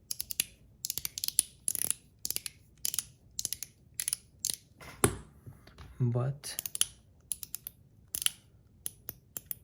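A secondhand Zirc One Pal fidget toy clicks sharply and repeatedly as it is handled, an irregular ratcheting series of close, crisp snaps, with a short spoken word briefly in the middle.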